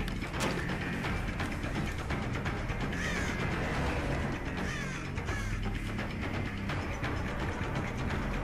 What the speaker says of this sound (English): Thanks for the crow.